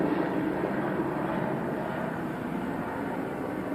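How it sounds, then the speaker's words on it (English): A helicopter passes overhead outdoors during a brake pad and rotor job on a 2008-2016 Chrysler Town & Country, a steady broad rumbling drone filling the whole moment at moderate loudness. "Sorry about the helicopter."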